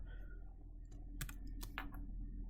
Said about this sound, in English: Now, let's start typing.